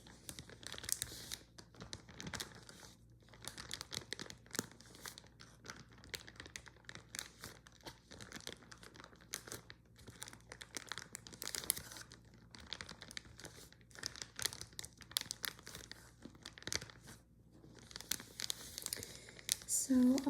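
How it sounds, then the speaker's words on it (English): A crackly plastic bag holding childhood jewelry crinkles and rustles continuously at close range, soft and intimate, with irregular crisp bursts of crackling throughout. "So that's why it's in this lovely crackly bag"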